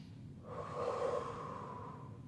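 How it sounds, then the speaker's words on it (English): A single deep breath drawn in through the nose during an upper-body mobility stretch, soft and close, swelling briefly then easing off, with no talk. "So big breath in."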